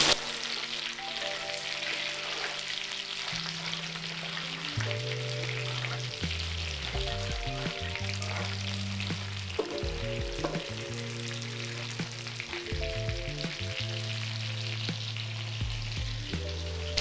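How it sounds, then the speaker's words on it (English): Butter melting into a hot pan of sugar as the base for a rhubarb dish, giving a steady close sizzle and crackle that runs the whole time, with tonal music playing underneath. "Turn off the heat and remove the pan from heat. And just allow the butter to melt in."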